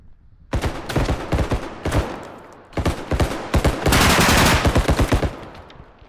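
Rapid bursts of shotgun fire from the Escape from Tarkov game, several quick clusters of sharp loud blasts with brief pauses between them, with no talk.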